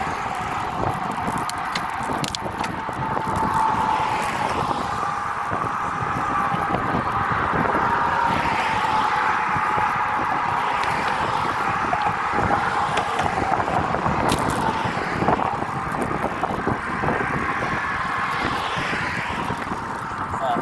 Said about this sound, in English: A lot of traffic going into Sanibel.